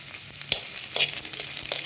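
Beans stir-fry in a hot pan for hotel-style noodles, a close steady sizzle broken by a few sharp spatula scrapes and clicks over two seconds.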